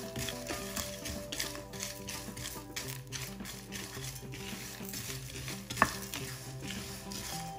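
Noodles fry in butter in a pan until crispy, with a steady faint sizzle under repeated stirring and scraping sounds. No one speaks.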